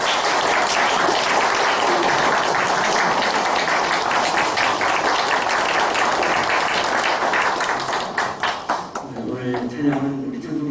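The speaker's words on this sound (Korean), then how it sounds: "우리 성가대 감사 박수 격려." A church congregation applauds its choir with dense, sustained clapping that fills the room, then thins out and gives way to a voice speaking.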